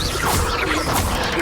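A Confringo spell cast in Hogwarts Legacy bursts out as a short, loud whooshing crash, one quick blast with no voice over it.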